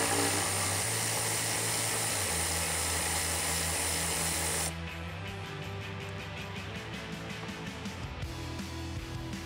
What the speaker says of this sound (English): grab that T30 Torx socket and get this removed